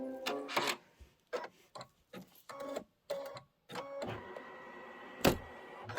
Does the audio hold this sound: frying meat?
no